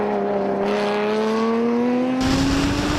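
Stock race cars at Circuit of the Americas, including a Pontiac Grand Prix, drone past with a rising engine whine that climbs steadily, then a louder car sweeps in close with a burst of broadband roar.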